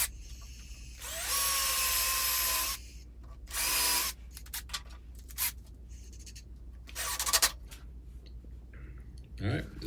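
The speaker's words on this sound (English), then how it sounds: "Seeing that it's white oak, I made sure to pre-drill all my holes." Power drill pre-drilling holes in white oak for a dart board backboard, with a couple of loud whining bursts of a second or two, then shorter spurts of drilling separated by quieter pauses.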